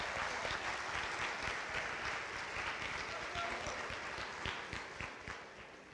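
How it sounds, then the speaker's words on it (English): A steady, dense wash of applause from a high school awards ceremony audience, sustained for several seconds and easing slightly at the end. "Please join me in a round of applause."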